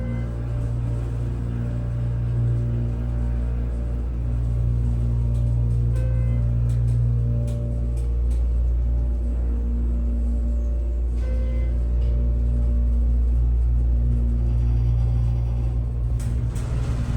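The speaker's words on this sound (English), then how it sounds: "here's this elevator car right here" A Schindler 330A hydraulic elevator car at a Hampton Inn runs with a loud, steady low rumble and hum, with faint clicks and brief higher tones over the drone and no one speaking.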